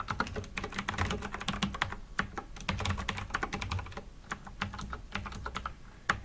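Rapid typing on a computer keyboard while filling out a tax extension form, with dense clusters of crisp key clicks in uneven bursts and brief pauses, close and clear with no talk.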